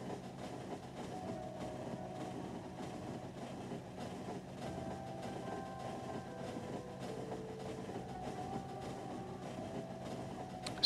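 Continuous rumbling of a Factorio train in motion, steady and fairly loud with layered mechanical hum and faint tonal bands, with no talking over it.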